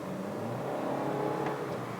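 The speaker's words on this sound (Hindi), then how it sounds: "लेकिन जो इसका इंजन की आवाज़ है" A Honda Amaze 2025's engine heard from inside the cabin while driving, a steady, moderate hum and whir that rises slightly in the middle, with no talking.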